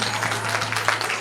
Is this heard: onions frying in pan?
no